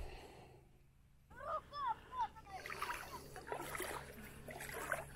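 A person wading into the Volga river, with brief vocal sounds early on, then a run of close, irregular sloshing splashes and water churning that continues to the end.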